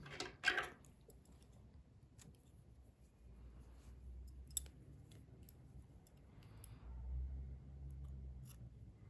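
Scissors snip crochet yarn with a sharp close cut near the start, then faint handling rustles and soft low thumps under a quiet background.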